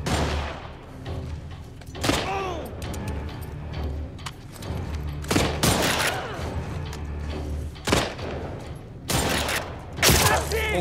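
Gunfire in The Last of Us Part II, a few loud shots and bursts spread over the stretch with mechanical clatter and ambient game noise between them.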